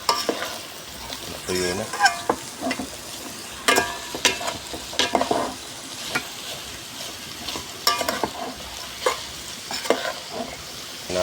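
Beef and offal for papaitan sizzle and crackle in a hot pan, stirred with repeated sharp utensil scrapes and clatters; a voice speaks briefly over the frying.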